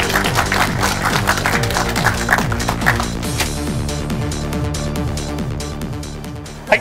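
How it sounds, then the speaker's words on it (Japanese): Applause for the annual champion at a bass fishing tournament awards ceremony, a light patter of clapping spread under a loud repeating musical fanfare, with one sharp bang near the end. "はい、大きな拍手をお願いいたします。"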